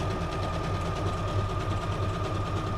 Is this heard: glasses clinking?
no